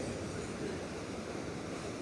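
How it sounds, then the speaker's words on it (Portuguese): Floodwater rushes across a submerged causeway crossing at Limoeiro do Norte, Ceará, a dense, steady roar of flowing water with wind-like hiss, heard from a distance without speech. "Olha só a quantidade de água passando aqui"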